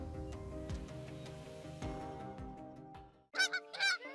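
Wild Canada geese give a few sharp, loud honks near the end, after a stretch of unrelated music.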